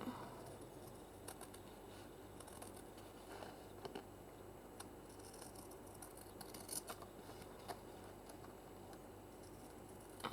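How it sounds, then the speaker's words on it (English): Scissors trim a paper coffee filter with soft, quiet snips scattered across the clip, close but faint over a low background hush. "Just trimming that coffee filter"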